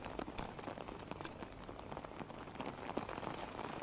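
Continuous heavy rain falls in Mumbai, a soft but constant patter and hiss of drops striking surfaces, steady throughout with no one speaking.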